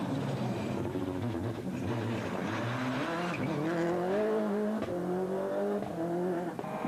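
Rally cars on a gravel stage at the Tipperary Stonethrowers Rally, WRC and Group A class, with a loud engine revving hard through changing gears and a tyre squeal, sustained and close with no talk.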